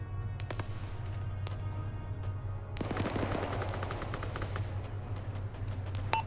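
Automatic machine-gun fire in the military simulation game Arma 3, a dense burst of rapid shots starting partway through and rolling on over a low engine-like drone, moderately close.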